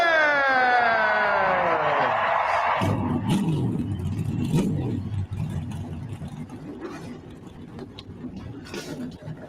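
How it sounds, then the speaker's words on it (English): A NASCAR race car engine roars, its pitch sweeping down from a high rev before settling into a deep, rumbling idle with uneven throttle blips, loud and close. "Driver, start your engine!"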